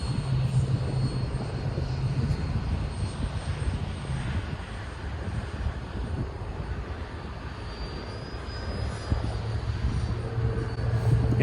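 Small E-flite Habu STS RC jet plane whines steadily while flying overhead in wind, faint and distant, with gusts and a soft continuous hiss.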